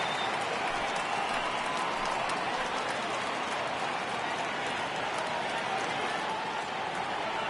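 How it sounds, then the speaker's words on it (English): In MLB 18, a ballpark crowd rises for a full 3-2 count in a steady, loud wash of cheering and murmuring that does not let up. "Crowd gets up for the 3-2."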